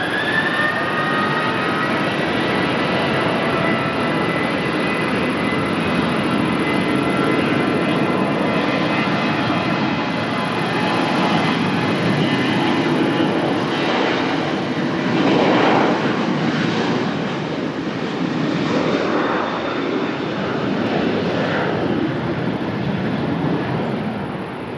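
Jet airliner taking off at Lisbon Airport, a steady loud broadband engine roar that swells slightly midway and holds throughout, with no talk.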